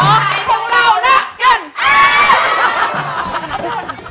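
Group of people in a television studio loudly reenacting a university cheer, shouting and chanting together in bursts with excited whoops and some laughter.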